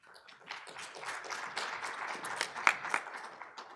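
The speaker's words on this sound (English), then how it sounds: "I think they deserve a round of applause." Audience applause at a financial summit on women's economic inclusion, a moderate patter of claps that swells slightly midway and holds steady, heard from within the room.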